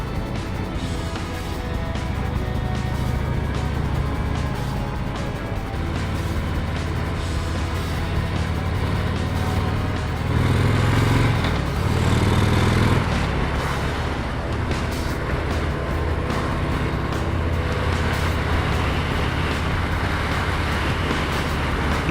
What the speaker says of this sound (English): you ask this bike to go faster and it does it gladly